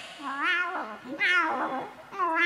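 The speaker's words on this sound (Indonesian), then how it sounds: "Kucing-kucing cilik." Small kittens meowing repeatedly and close by, several drawn-out high mews in quick succession with no talk.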